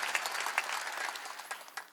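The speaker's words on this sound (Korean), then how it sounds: "박수치라고." Clapping from a church congregation during a Wednesday worship service, a steady patter of hands across the room with a few sharper claps standing out, fairly quiet and with no voices.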